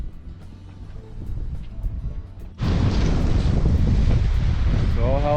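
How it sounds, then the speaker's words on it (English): Strong wind roars and buffets the microphone, growing suddenly louder partway through, with faint surf and a brief voice underneath. "We wanted to have a fire on the beach, but it's too windy."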